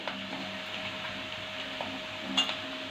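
Green chillies fry and sizzle in hot oil in a pan for a dry potato side dish, a soft steady crackle with a few light clinks of a utensil stirring against the pan.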